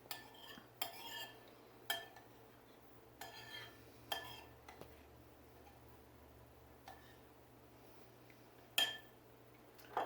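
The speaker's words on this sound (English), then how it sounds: "And I'll stir them up again." A spoon stirring grits and water in a mixing bowl, giving sparse sharp clinks and scrapes against the bowl at irregular intervals, close and fairly quiet with no talk.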